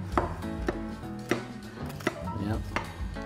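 A knife cuts through a buttered bread pudding in several distinct slicing strokes, each a short scraping crunch, close and fairly loud against a faint background.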